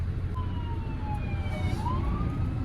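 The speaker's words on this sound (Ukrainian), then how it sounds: "І це поїхала пожарна." A fire truck siren wails past at a distance on a US road, its rising and falling tone faint and sweeping over a steady low rumble of truck and traffic noise.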